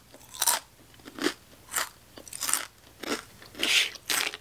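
Ketchup-flavored Lay's chips bitten and crunched up close, about eight sharp crisp bursts in an uneven rhythm with short pauses of chewing between, no talking.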